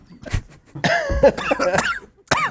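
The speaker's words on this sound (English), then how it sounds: "there's a lot of coughing today" Several harsh, raspy coughs in quick succession, loud and close, with short pauses between the bursts.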